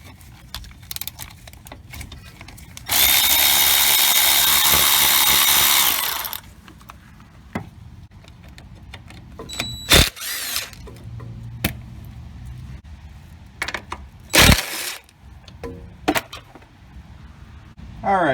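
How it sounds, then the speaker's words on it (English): A power tool unbolts 10mm bolts on a car's rear suspension in one loud, steady whirring burst of about three seconds, followed by scattered clinks and knocks of tools and metal parts, with someone talking between them. "I'm going to unbolt the 10mm bolt up there for the ABS wire as well"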